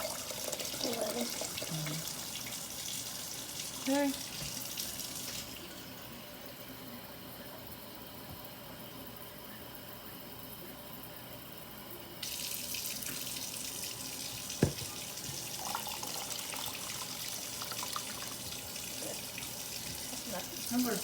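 Tap water runs into a sink while classic tea is made with sugar, a steady rush that changes level partway and surges again, with a voice speaking briefly.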